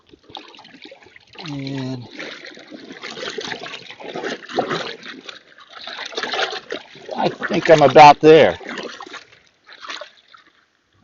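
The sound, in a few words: water filling a sailing dry suit's arms and legs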